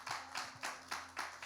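Slow, rhythmic clapping from a church congregation applauding Jesus during a sermon, about five separate claps spaced roughly every quarter second, fairly faint with a low steady hum beneath.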